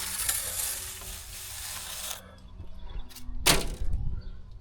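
A trowel scrapes across freshly applied wall render (crépi) to texture it, a gritty close rasp for about two seconds, then quieter scuffs and one sharp scrape near the end.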